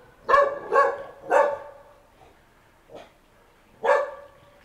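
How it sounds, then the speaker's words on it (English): A small dog barks on Chang Klan Road in Chiang Mai, Thailand, three quick yaps in a row, then a faint distant one and a final bark, fairly close with no voices. "Little dog. It's okay, buddy. I'm your friend."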